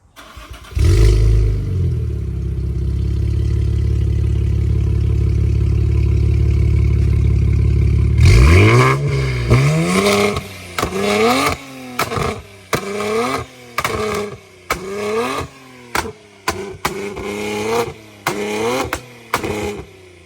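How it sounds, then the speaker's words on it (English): Tuned Infiniti Q50 with an MBRP catless exhaust starts with a loud crank and settles into a steady, deep idle, then fires off a series of sharp throttle blips and revs in quick succession, close by with no talking. "Now I'll give y'all a little startup clip as well."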